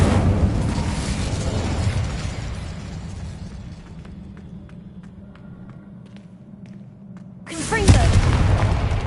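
A fire spell is cast in the Hogwarts Legacy video game, with loud rumbling game effects and a booming burst that fades into quieter ambience before a second loud blast erupts near the end.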